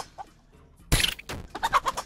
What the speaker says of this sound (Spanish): ¿Y esa gallina?